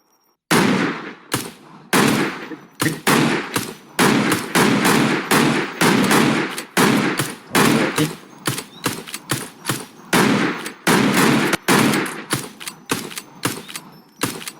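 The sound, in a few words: gunshots fired in a video game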